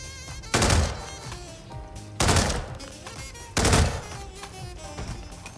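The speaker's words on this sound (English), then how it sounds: "gunshots were heard" Three bursts of assault rifle fire ring out in the Hitman video game, each a loud, sharp volley about a second and a half apart that fades into a brief ringing tail before the next.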